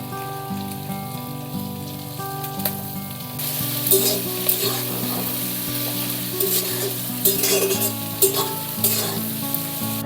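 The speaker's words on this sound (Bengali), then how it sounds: "এখন পেঁয়াজটা দিয়ে একটু ভাজা ভাজা করে নেব।" Onions frying in a pan with garlic, sizzling steadily and loudly close by, the crackle growing denser partway through, with intermittent stirring scrapes and no talk.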